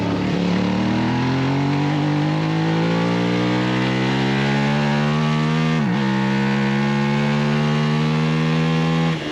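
A novice racer's motorcycle engine screams loudly close up at high revs, climbing in pitch, bouncing briefly off the rev limiter around the middle, then pulling hard again, continuous and alone on a road-race circuit.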